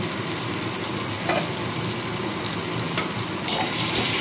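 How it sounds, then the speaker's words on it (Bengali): Ginger paste stirred into softened tomatoes in a pan: a steady sizzle with faint scraping runs throughout, close and fairly even, with a few louder stirring strokes near the end. "আদা বাটাটা দিয়ে একটু নাড়িয়ে নেব।"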